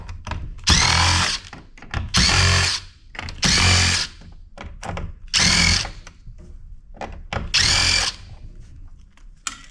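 A power screwdriver or drill whirs in five loud, close bursts of a second or so each, separated by short pauses, as it removes a screw from salvaged, mud-caked electronics.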